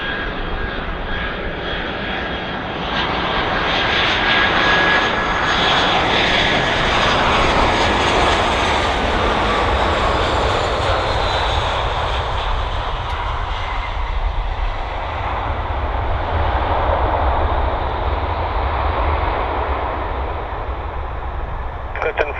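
An easyJet airliner lands on runway 09 at Bristol Airport, its engines a loud, sustained roar that rises and slowly fades, with radio voices faintly mixed in.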